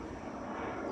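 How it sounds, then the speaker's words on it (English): An airplane flies overhead, a faint, distant engine rumble sustained for about a second with no one talking. "I got a plane overhead of me."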